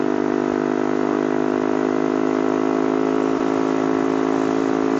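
A Yamasaki YM50 motorcycle engine runs steadily in third gear at high revs, a constant close buzzing drone with no speech over it.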